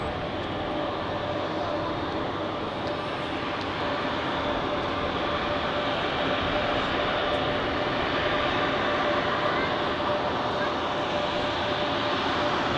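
Airbus A330 jet at Zurich airport, a continuous loud engine roar with a steady tonal whine, heard from an observation deck with constant broadband rumble and no clear talk.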